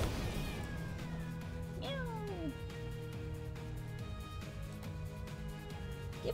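Cats in the Epic Battle Fantasy 5 video game meowing as a rousing speech, several rising and falling meows layered over a steady game soundtrack, with a louder swooping cry near the middle.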